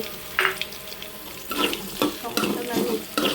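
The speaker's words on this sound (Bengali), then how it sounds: "পেঁয়াজ রসুন কাঁচামরিচ ভেজে নিচ্ছি" Onion, garlic, green chili and shrimp fry in a pan, with loud spattering sizzle bursts and stirring scrapes coming in uneven waves, quieter at first and busier in the second half.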